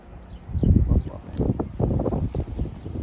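Strong gusty wind buffets the microphone outdoors in continuous rough roaring bursts, loud and close throughout, with no clear talk over it.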